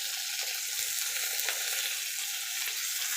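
Panch phoron spices and chillies sizzle and crackle in hot oil in a pan, a steady close frying hiss with small pops, no voices over it.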